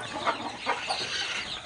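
A hen brooding on eggs on a village poultry farm gives a few soft clucks, three or four short calls close by over a steady background hiss, with no talking.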